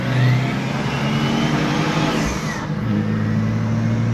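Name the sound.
diesel car engine revving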